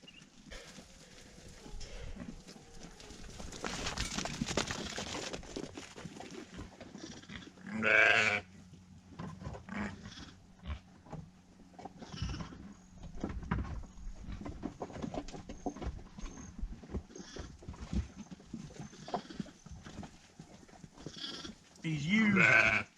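Ewes bleat on a farm, a couple of loud near calls rising above soft rustling, shuffling and handling noises, with a voice talking intermittently between them.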